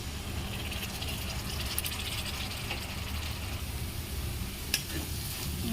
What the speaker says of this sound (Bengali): মশলাটা পেঁয়াজের মধ্যে দিয়ে দেবো।